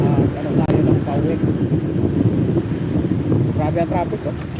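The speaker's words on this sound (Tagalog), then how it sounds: "Grabe ang traffic, oh." Heavy road traffic in a congested city street, a continuous rumble of cars, buses and motorcycles with a brief sharp knock, and people talking over the noise.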